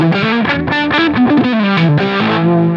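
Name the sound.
electric guitar played through a delay effect preset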